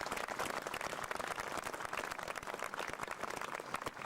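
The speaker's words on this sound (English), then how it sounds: "give them another round of applause" Steady applause from a crowd at a Canadian veterans' memorial event, dense clapping throughout at moderate volume with no voices above it.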